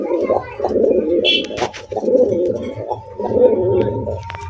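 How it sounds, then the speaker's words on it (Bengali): A Rajgolla pigeon gives repeated rough, throaty coos in several close bursts, with soft human voices briefly underneath. "আর ডাক তো আপনারা দেখলেন একদম করকরা সাউন্ড।"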